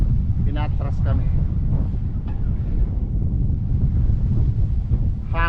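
Strong, cold wind buffets the microphone in a steady low roar throughout, with someone talking briefly over it near the start and end.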